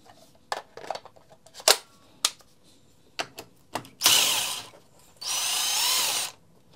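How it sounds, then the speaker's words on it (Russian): A cordless drill-driver used while readying a battery-powered trimmer gives two whirring runs of roughly a second each, loud and close, preceded by scattered clicks and handling knocks, with no talking. "У меня же есть шуруповерт."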